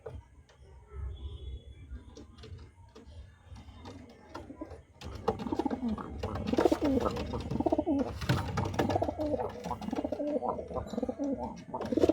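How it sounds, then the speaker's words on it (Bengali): Madrasi pigeons cooing after being released, repeated soft throaty coos that grow louder and busier toward the end, with light ticking and shuffling nearby. "এবার আসুন পায়রা দুটিকে ছেড়ে শক করে"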